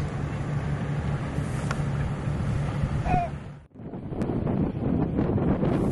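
Strong wind gusting along the Irish coast by a bay, roaring and buffeting a microphone up close, briefly dropping to near quiet before surging back.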